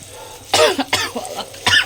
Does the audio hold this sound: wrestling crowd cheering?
no